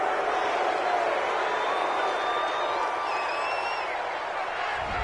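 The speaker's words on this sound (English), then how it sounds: "This home crowd, they're happy with that call." A home crowd at an NFL football game, Browns versus Chiefs, cheers a penalty flag in a steady, sustained roar with scattered whoops and whistles, heard from a broadcast position.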